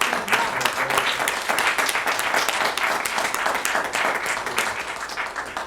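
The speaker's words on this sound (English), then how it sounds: "Please join me in giving our Teacher of the Year one more round of applause." An audience gives a sustained round of applause for the Teacher of the Year at a school celebration event, loud, dense clapping that holds steady throughout, with a faint voice or two underneath.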